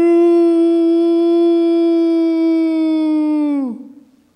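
A person imitates the Ohio howl with one long, loud, sustained vocal howl that holds a steady pitch for several seconds, then bends downward and trails off alone.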